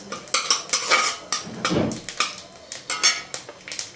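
Metal spoon scraping and clinking against a pan as dry red chilies, a bay leaf and whole cumin are stirred, a quick series of close, sharp scrapes and taps with no talking.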